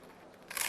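Scissors snip through a thin cardboard shim, a short crisp crunching cut that swells in loudness at the end.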